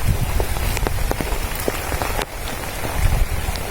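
Rain pattering steadily on a surface in a rural village beside rice paddies, dense drops close by, with a brief dip in loudness midway and no talking.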